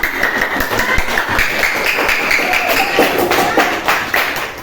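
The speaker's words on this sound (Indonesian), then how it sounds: "Mari kita sekali lagi tepuk tangan untuk kalian semua." Classroom clapping from a group of students, a dense, steady patter of many hands filling the room at moderate loudness with scattered sharper taps, continuing without a break.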